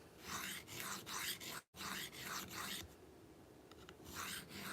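Knife blade being hand sharpened on a stone, a rhythmic series of rasping strokes back and forth, close and fairly quiet, with a short pause partway through.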